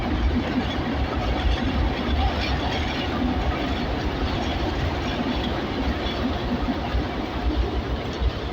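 A boat engine runs steadily at sea, a dense, continuous low rumble with broadband noise that holds level throughout, close and loud with no talk over it.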